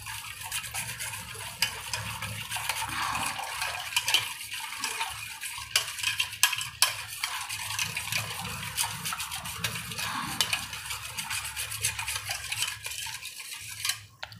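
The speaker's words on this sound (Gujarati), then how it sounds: "હવે આ બધું આપણે આવી રીતે મિક્સ કરી લેવાનું." A spoon clinks and scrapes against a bowl while custard powder is stirred into cold milk for homemade cashew ice cream, a busy run of quick metallic taps and swirls heard close up.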